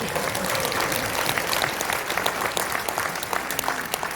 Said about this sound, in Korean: 자, 여기서 박수가 한번 나와줘야 됩니다